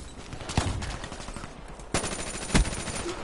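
FFAR assault rifle fire in a video game: sustained rapid automatic bursts with a few sharper, louder shots standing out, close and dominant over faint background game sounds.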